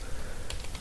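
Typing code on a computer keyboard, a brief quick patter of several close key clicks with no voice.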